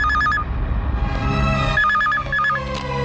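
A telephone rings with a trilling electronic warble in short repeated bursts, heard over loud dramatic film music in a movie scene.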